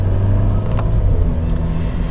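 Inside a 500-horsepower Volkswagen Golf R on the road, a deep, steady engine and road rumble drones continuously, loud and close, with no talk over it.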